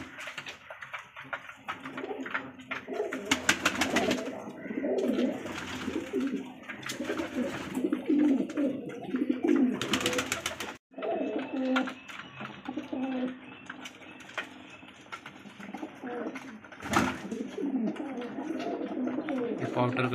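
Pigeons coo steadily in a breeding loft kept for sale, their soft repeated calls running throughout alongside someone talking nearby, with some handling noise in between.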